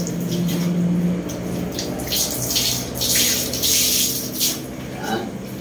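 Running water splashes while laundry is washed by hand, with irregular bursts of sloshing and spraying over a steady tap flow, close and fairly loud.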